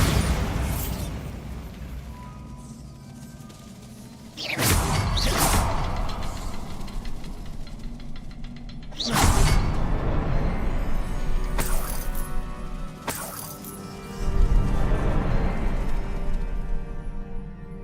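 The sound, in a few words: Bombarda explosion spell cast in Hogwarts Legacy video game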